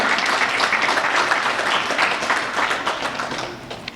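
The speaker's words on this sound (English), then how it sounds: "So please, let's give her a round of applause." Audience applause at a middle school Day of Giving event, moderate clapping from a gathered crowd honoring a Community Service Club founder, fairly even and unbroken.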